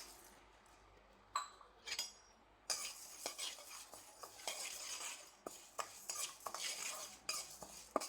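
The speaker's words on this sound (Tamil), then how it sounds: "அந்த பாசிப்பருப்பை வந்து வறுத்து எடுத்துக்கிடுவோம்" Moong dal dry-roasting in a kadai, with a spoon scraping and clinking against the metal pan in irregular bursts, quiet at first and then busier, with a faint dry rustle of lentils between strokes.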